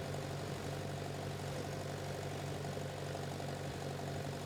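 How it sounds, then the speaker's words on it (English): A tractor engine idles steadily and continuously at a moderate distance while a cement mixer is loaded, a low droning hum with a constant mechanical tone and no speech. "let the clutch out, the tractor will start moving forward"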